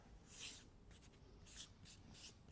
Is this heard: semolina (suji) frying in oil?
no